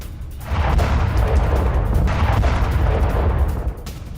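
A sustained, heavy rumbling blast near Sheremetyevo International Airport in Moscow during a wartime attack, booming loud and low for about three seconds with a rolling, noisy tail and no voices.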